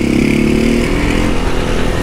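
A 2023 Honda Start 160 motorcycle with an aftermarket exhaust revs loudly and close by, a harsh, buzzing engine roar that holds steady and slightly rises and falls for two seconds.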